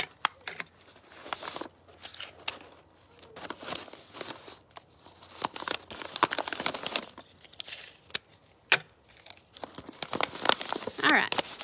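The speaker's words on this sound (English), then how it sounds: "I'm going to wrap it around my bottle. And I'm going to tape the seam right here" Paper crinkling and rustling as it is wrapped around a bottle, then tape tearing and being pressed along the seam, in irregular close bursts of crackle and rip.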